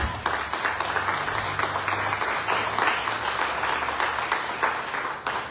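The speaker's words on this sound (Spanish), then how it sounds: "denle el aplauso a Dios" A church congregation at a Spanish-language service applauds in a dense, steady roar of many hands that carries on throughout without pause.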